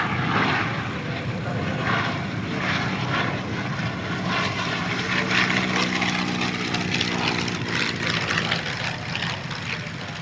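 An Avro Tutor, a vintage biplane trainer and the last flying example, passes at a British airshow: a sustained propeller-engine drone with a throbbing, slightly wavering pitch, moderately loud and steady throughout, with no talking.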